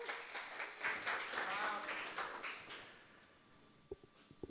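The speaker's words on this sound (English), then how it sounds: "Round of applause." Audience applause for a speaker at a Kubernetes tech talk, a dense burst of clapping that rises and fades over about three seconds, then a few sharp knocks in a quiet room.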